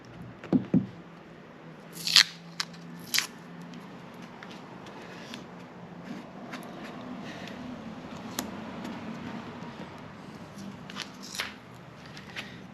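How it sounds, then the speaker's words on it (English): Tape being pulled and pressed over holes in a Mazda RX7 body shell, with a few sharp ripping and crinkling bursts early on, then quieter scattered taps and rustles against a low background. "we're just gonna put some tape over these holes"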